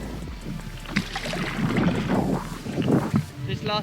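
Stand-up paddle board paddling on the tidal lower River Wye, with wind buffeting and water swell; soft irregular splashes and strokes sit under steady broadband wind noise at moderate level, with no talk.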